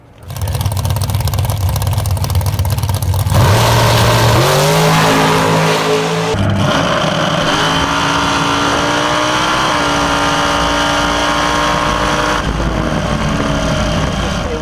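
A race car engine fitted with a Holley Sniper Stealth 4500 EFI throttle body roars loudly and continuously, idling low before revving hard with climbing pitch and shifting through gears, very close and dominant with no talk.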